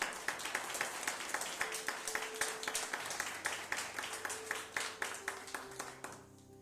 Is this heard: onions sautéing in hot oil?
no